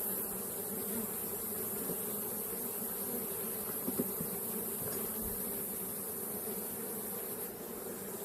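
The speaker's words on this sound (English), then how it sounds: "The bees are working bull mallee at the moment." Honey bees buzzing around hive frames during a honey harvest, a steady, faint droning hum from many insects close by, continuous throughout with no talk.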